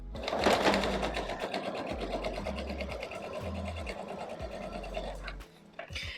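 A sewing machine stitches a dart in a pair of trousers, running close and steady with a fast, even needle rhythm before briefly easing off near the end.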